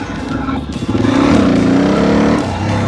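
A motorcycle engine revs hard as the rider attempts a wheelie, the throttle surging up into a loud, sustained roar that holds close and steady, with no talking.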